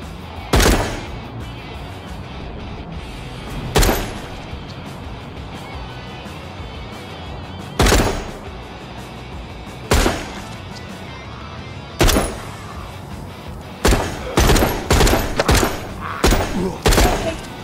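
Loud, sharp gunshots ring out in a zombie apocalypse video game, single blasts spaced a couple of seconds apart, then a quicker cluster of shots near the end, over a low background rumble.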